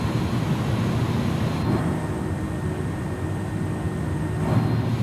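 Steady, loud rumble of an A310 airliner's engines and airflow during descent with speed brakes extended in a flight simulator, a continuous broadband roar with no talk.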